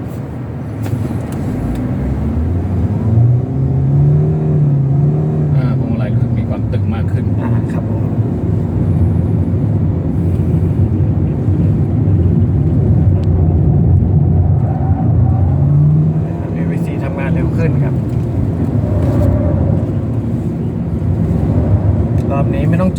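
A Mitsubishi Xpander Cross HEV accelerates hard at full throttle, its engine drone rising and falling in pitch from inside the cabin, loud and continuous, while people talk over it.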